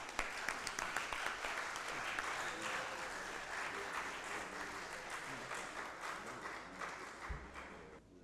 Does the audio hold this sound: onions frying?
no